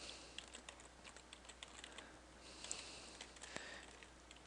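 Quiet, steady computer-keyboard typing as code is entered, a run of soft, irregular key clicks close to the microphone with no talking.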